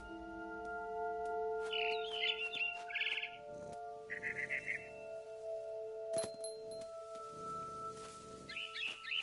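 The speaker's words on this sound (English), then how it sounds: "Then I heard chirping outside my window. It was a barn swallow going back to her nest." Bright, twittering chirps from a barn swallow near a window in the video game What Remains of Edith Finch, coming in short bursts over a steady, sustained musical drone with a few soft knocks.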